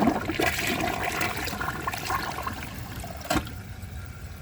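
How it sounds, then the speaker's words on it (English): Project Source Pro dual-flush toilet flushing with the button held down, a loud steady rush of water throughout with a brief sharp clack near the end. "hold the button down for the first flush and see if it can take it that way"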